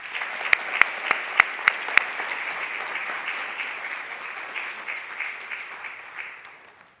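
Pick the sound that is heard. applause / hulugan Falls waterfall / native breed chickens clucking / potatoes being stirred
applause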